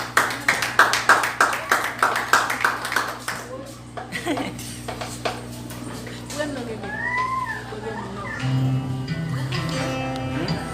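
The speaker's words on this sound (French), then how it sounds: "Un applaudissement pour nous, s'il vous plaît." Applause at a wedding celebration: a burst of dense hand clapping for the first few seconds, then a voice over a sustained musical drone and background chatter as the clapping thins out.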